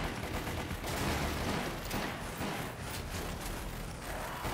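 Submachine gun fire in Resident Evil: Umbrella Chronicles, a dense, continuous burst of rapid gunfire with crackling impacts, steady and loud throughout with no talking.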